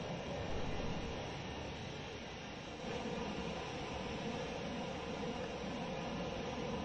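Droning engine roar of a ground attack plane flying in a video game, a steady broadband rumble that stays loud and continuous throughout with no voices.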